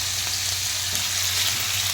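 Curry leaves dropped into hot oil with cumin seeds crackle and sizzle loudly and steadily, a dense close hiss with no talking.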